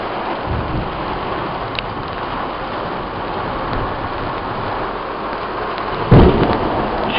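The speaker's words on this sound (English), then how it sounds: "it is raining like a motherfucker outside." Heavy rain pours steadily outside during a St. Louis thunderstorm, a dense, constant hiss, with a loud, close thunderclap cracking and rumbling near the end.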